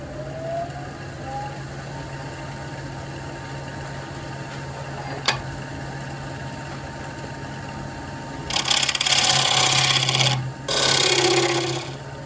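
A lathe spinning near 1,000 RPM drives a round carbide tool into crabapple wood, a low steady hum running throughout and a loud rasping cut breaking in near the end in two bursts.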